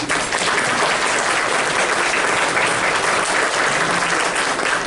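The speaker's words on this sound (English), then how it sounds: "Would you please give them a round of applause?" Dense, steady audience applause for cafeteria staff fills the room at a constant loud level, many hands clapping together with no voices over it.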